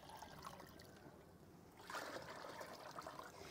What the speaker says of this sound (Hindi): 4 लीटर हम इसमें पानी डालेंगे